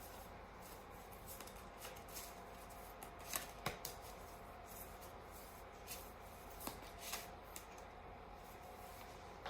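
Quiet, steady rustling and soft papery flicks of tarot cards being shuffled nearby, with a few sharper snaps, and no talking.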